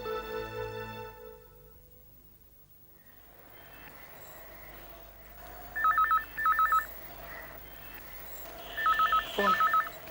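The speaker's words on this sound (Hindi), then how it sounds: "फोन।" Telephone rings in a Hindi TV serial scene, heard as two pairs of electronic trilling bursts several seconds apart over faint room tone.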